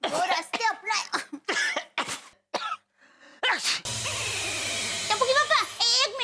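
Someone coughs from dust in a comedy scene from Taarak Mehta Ka Ooltah Chashmah: several short, harsh coughs and throat-clearing bursts close up, followed by a steady humming background with other voices.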